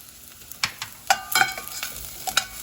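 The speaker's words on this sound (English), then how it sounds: "I'm just going to let that cook for a little bit and cook the garlic and the ginger" Chopped garlic and fresh shredded ginger sauté in a pan for an Indian comfort dish, soft sizzling broken by a few quick stirring scrapes, close and brief with no talking.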